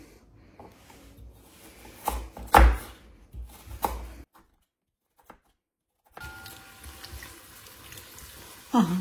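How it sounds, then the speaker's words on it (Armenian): Carrots are cut into medium pieces with a cake-cutting knife on a board, giving a few close, sharp chopping knocks, then a brief silence and some faint kitchen clatter. "Գազարն էլ կտրատելու եմ ոչ շատ մեծ, ոչ շատ փոքր, միջին չափի եմ կտրատելու"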